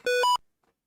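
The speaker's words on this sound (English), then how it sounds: "I keep forgetting the beep boops of Ataris are really, really loud" Atari video game console gives a quick pair of loud electronic beeps, one lower then one higher, ending abruptly into silence.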